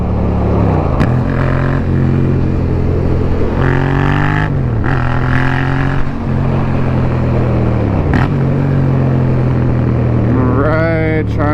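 A 2020 Yamaha XSR700 retro naked motorcycle engine runs loud and close, with a steady drone and several rises and falls in revs as it rides, while a rider talks over it.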